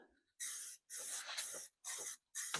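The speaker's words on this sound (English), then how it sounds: "if you're spraying, like in my case, a whole floor pan" Spray gun coating the floor pan of a 1969 Buick, four bursts of loud close hiss separated by short pauses, no talking.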